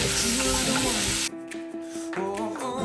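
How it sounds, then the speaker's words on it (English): Onion, celery and carrots sauté in a pan with a loud, hissing sizzle that drops away partway through and then returns, over faint tonal background sound. "I'm going to saute the three vegetables, onion, celery, and carrots."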